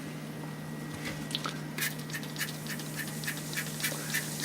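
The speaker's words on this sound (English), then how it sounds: "That vinegar is activating the baking soda." Vinegar fizzes on baking soda during cleaning. Faint, continuous crackling with tiny scattered pops and bubbling carries on throughout, close up and without voices.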